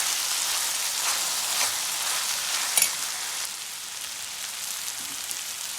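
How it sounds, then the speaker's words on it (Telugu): Green chillies and turmeric stirred into a sizzling pan of broad beans with tomato and fenugreek leaves, a steady close fry with scraping stir sounds and a brief clank near the middle as the lid goes on. "పచ్చిమిర్చి వేసుకున్నాం. ఇప్పుడు కలిపేసి మూత పెట్టేద్దాం."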